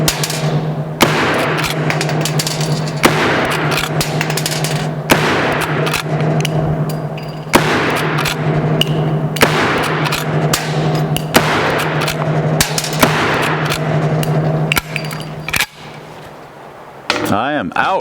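A rifle fires a string of rounds loaded in annealed cases at an outdoor range. The sharp reports come about every one to two seconds over a steady background hum, with occasional voices between shots.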